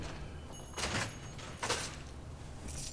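An ammo box opens in Fortnite, heard as a couple of short, soft clunking and sliding bursts at modest distance over faint background ambience.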